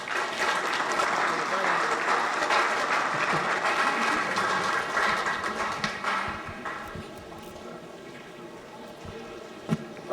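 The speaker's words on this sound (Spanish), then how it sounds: "Por favor, pido un aplauso para..." Audience applause at a government signing ceremony for agreements with the Municipality of Oaxaca de Juárez, steady and moderately loud for several seconds and then thinning out, with some speech over it.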